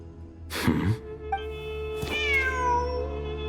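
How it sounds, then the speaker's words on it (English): In the video game Genshin Impact, a cat gives two clear meows, the second drawn out and rising, over a steady low hum of game ambience. "The cat!"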